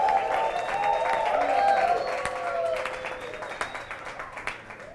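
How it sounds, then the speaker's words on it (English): Applause from a church congregation, clapping mixed with cheering and raised voices, loud at first and tapering into scattered claps. "give them a round of applause"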